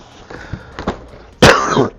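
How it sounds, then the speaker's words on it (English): A single harsh cough bursts out loud and close after a few soft thumps and shuffles, then trails off with a breathy rasp. "sorry about the cough"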